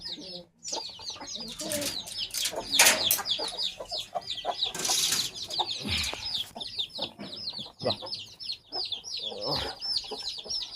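A crowd of guinea fowl and chickens clucks and squawks continuously at close range, with busy rustling and occasional louder bursts of noise throughout.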